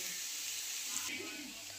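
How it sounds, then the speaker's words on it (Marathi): A pan of tempering with cumin, mustard seeds, turmeric, garlic, curry leaves, onion and peanuts fries with a soft, steady sizzle and faint stirring, quiet and brief. "फोडणी दिली जिरी मोहरी हळद लसूण कढीपत्ता कांदा शेंगदाणे सगळं टाकले. सगळं भाजून घेते चांगलं"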